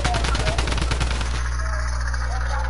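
Rapid automatic gunfire from a drum gun in Fortnite, a dense burst of shots in the first second and a half that then gives way to steady game ambience, with no speech.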